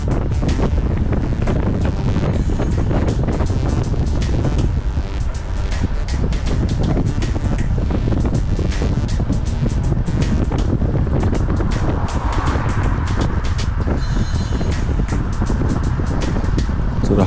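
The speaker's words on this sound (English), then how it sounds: "Just very, very blustery and breezy." Strong, blustery wind buffets the microphone in a continuous roar with gusting surges throughout, loud and close, during a cycling ride.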